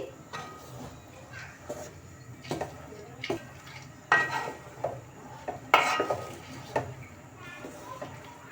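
Fresh washed rice is stirred in boiling jaggery syrup in a pot, giving intermittent scraping and clinking of a spoon over a low bubbling background, with a voice faintly present.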